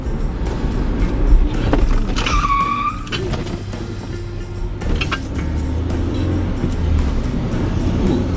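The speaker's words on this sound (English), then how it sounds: "Somebody up there slammed on their brakes." Tires squeal as a car brakes hard on a road after a Padres vs Dodgers game, a short rising screech over steady engine and traffic rumble, followed by further passing vehicles and a brief later chirp.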